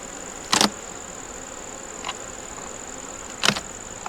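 A steady hum of honey bees at an open nuc box, broken by three sharp knocks or clunks as frames and boxes are handled.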